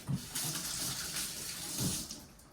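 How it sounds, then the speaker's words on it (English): Hands are washed in a kitchen sink under a running tap, with a steady, soft rush of water and a couple of brief splashes. No one speaks. "And then let me wash my hands."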